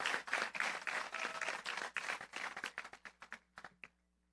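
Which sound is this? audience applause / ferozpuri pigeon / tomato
audience applause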